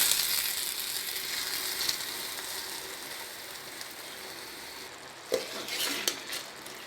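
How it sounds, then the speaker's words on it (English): Masala being stirred and fried in a kadai over a low flame gives a steady sizzle with scraping spoon strokes, then a few louder clinks of the utensil against the pan near the end. "Cook all the masala on low flame so that it cooks very well without sticking to the kadai."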